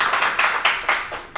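Several rounds of applause arrive in bursts, fading and swelling again, from a small audience at a presidential primary candidate debate forum.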